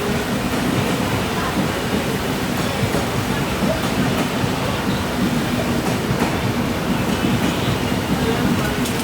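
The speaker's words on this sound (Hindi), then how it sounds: "तो चलिए, यहाँ अपनी ट्रेन निकल चुकी है" A long passenger express train rolls away at speed, giving a loud continuous rumble and roar with steady rattling from the carriages, close and even throughout.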